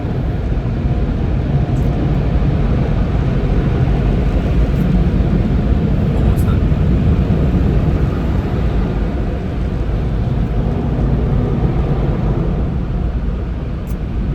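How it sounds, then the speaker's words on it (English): An automatic car wash runs loudly and steadily around a car passing through, a dense continuous rush and roar of spraying water and machinery that fills the whole stretch, with a brief spoken remark partway in. "Going through the car wash right now, guys. Sorry, it's kind of loud."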